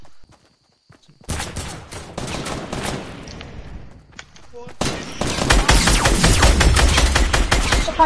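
Rapid bursts of video-game gunfire in a PS4 online match, loud and dense, with shots overlapping into sustained automatic fire after a brief quiet start; a player's voice is heard around it.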